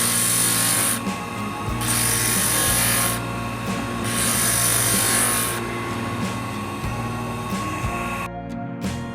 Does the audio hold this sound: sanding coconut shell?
yes